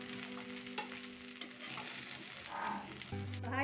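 Sliced okra (bhindi) sizzles steadily as it fries in oil in a kadai over a medium flame, with occasional scrapes and clinks of a stirring spoon close by.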